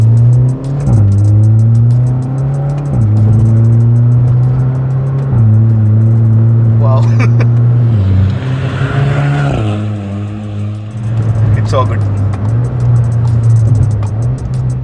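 A modified Volkswagen Polo GTI drives at speed with a loud, steady engine drone from inside the cabin, the pitch stepping up and down through gear changes and rising again under acceleration, with no one talking.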